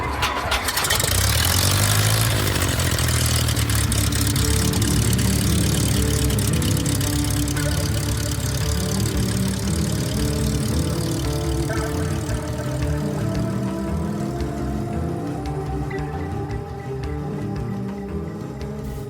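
A Piper Apache twin-engine airplane's engines start and run, a loud, steady, rumbling drone with a dense buzzing roar that fills the whole clip close by, with no talking.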